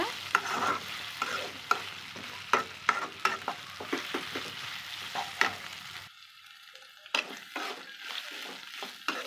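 Okra and egg frying in oil in a pan, a continuous crackling sizzle with frequent spatula scrapes from stirring, dropping briefly quieter before the stirring resumes.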